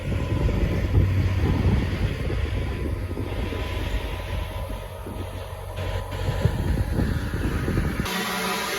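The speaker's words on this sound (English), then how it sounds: "that's the sound of us bleeding off the air" Compressed air bleeding off from an air compressor on a job site makes a steady, loud, broadband rushing hiss that carries on without a break and then shifts in tone near the end.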